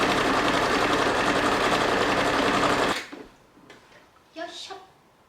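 A sewing machine stitching a fabric bag, a fast steady mechanical whirr for about three seconds that then stops, followed by light handling sounds and a brief voice.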